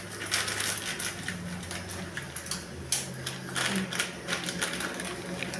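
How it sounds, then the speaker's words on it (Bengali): Maggi instant noodle blocks broken by hand, a quiet run of dry crunching snaps and crackles close by. "ভেঙে নিলে ম্যাগিগুলো টেস্টি লাগে খেতে।"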